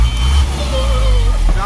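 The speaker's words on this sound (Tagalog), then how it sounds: "Look, Dominic, it's a fire truck." A fire truck's reversing alarm sounds at a fast-spreading fire, a repeating high electronic tone heard fairly close over a low engine rumble, with voices talking nearby.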